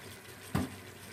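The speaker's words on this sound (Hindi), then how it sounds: "अब इसमें हम पानी ऐड करेंगे।" Water poured into a pan of frying potatoes and meat for aloo gosht, a single brief splash and sizzle against a low steady background.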